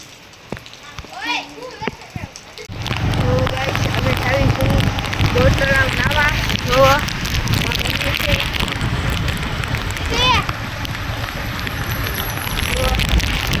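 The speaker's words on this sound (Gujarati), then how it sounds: "બહુ વરસાદ આવ્યો" Heavy rain pouring at Bor Talav lake, starting abruptly after a quieter opening and becoming a dense, loud, steady roar, with voices calling out now and then over it.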